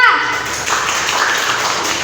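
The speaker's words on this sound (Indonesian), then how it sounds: "Tepuk tangan untuk kelompok 2" A classroom of students claps for a discussion group, a steady patter of many hands at close range with children's voices running underneath.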